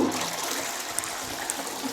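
A toilet gives a full flush with the stopcock shut off, a steady loud rush of draining water with splashing and trickling throughout and no talk.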